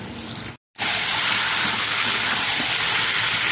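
Duck meat frying in hot mustard oil gives a loud, steady broadband sizzle. It cuts out briefly near the start, then resumes and continues evenly with no talking.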